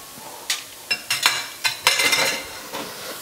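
Beef meatball stuffing with red onions is stirred in a pan, giving a run of short scraping, clattering strokes over a faint steady sizzle, close and fairly loud, with no talk.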